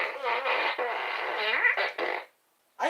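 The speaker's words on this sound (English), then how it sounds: "I got the fart gun" A toy fart gun lets out a long, wet, buzzy fart that warbles for about two seconds, followed by a brief sputter, a moment of silence and a short final blast.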